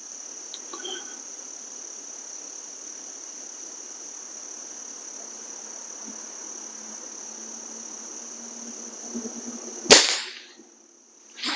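A Diana 250 air rifle fires a single sharp shot near the end, loud and close, over a steady bed of crickets and insect noise outdoors.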